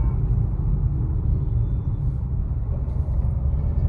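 Steady low rumble of road traffic at a busy four-way junction with bridge construction nearby, a dense, continuous drone of passing vehicles without clear individual events.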